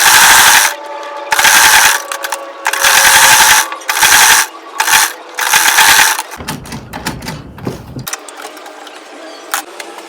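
A sewing machine runs in several loud, fast bursts stitching around an Ankara jumpsuit pocket cover, each run separated by short pauses, followed by softer handling clicks and rustles near the end.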